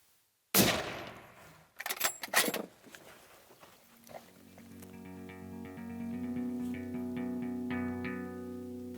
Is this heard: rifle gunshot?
yes